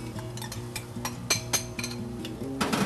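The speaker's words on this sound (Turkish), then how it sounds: "Onu da ikisini birlikte soteletiyoruz" Lean beef trimmed of fat being sautéed with onion and pepper in a pan for çökertme, with repeated clinks and scrapes of a utensil against the pan and steady faint frying underneath.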